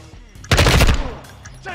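Gunfire in Modern Warfare 2 co-op: a loud, close burst of rapid automatic shots lasting about half a second, followed by fainter scattered shots.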